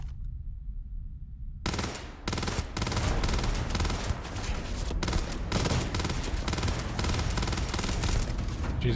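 Rapid automatic gunfire in the video game Starfield, loud sustained bursts of shots packed close together after a brief quiet opening, continuing without pause to the end with no talking.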